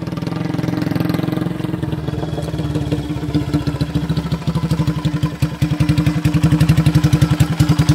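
A Tiger motorcycle rebuilt in classic style runs close by with a deep, rhythmic thumping idle that grows more pronounced and evenly pulsed toward the end.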